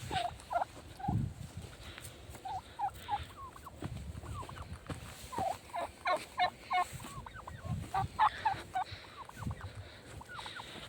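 Several turkeys gobble repeatedly at a distance, their bubbling calls overlapping and scattered across the clip with quiet rustling between.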